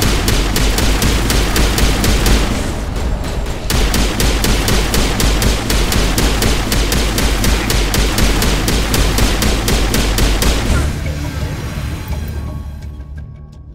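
Sustained rapid gunfire in Mass Effect Legendary at the ExoGeni facility, loud and close, with fast automatic bursts repeating at a steady rhythm. A short pause breaks the shooting, and the firing tapers off into quieter clatter at the end.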